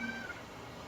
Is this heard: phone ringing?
yes